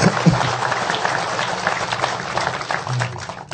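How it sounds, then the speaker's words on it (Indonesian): An audience at a religious gathering applauds, a rough wash of many hands at moderate volume with a murmur of voices underneath. "Tepuk tangan semua."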